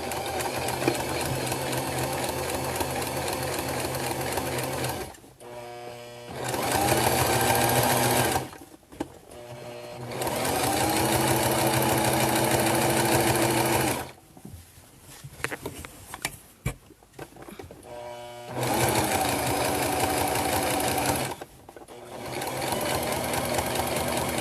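A sewing machine stitches lines in bursts, its fast, even mechanical whir running loud and close for several seconds at a time, broken by short pauses and handling noises between runs.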